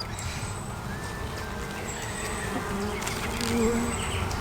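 Angry honey bees swarm around a hive during a second brood box inspection, a dense, continuous buzzing with individual bees droning past close by, rising slightly toward the end.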